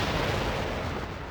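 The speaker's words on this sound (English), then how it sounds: "Explosion coming in." An explosion in the video game Final Fantasy X, a loud, dense roaring blast that fills the whole clip without letting up and carries no speech.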